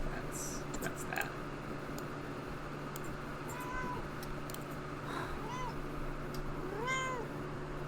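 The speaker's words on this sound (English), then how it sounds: "that was my cat trying to block my way from the keyboard" A pet cat meows a few times indoors near a keyboard, the short faint calls rising over a quiet room hum and soft background voice.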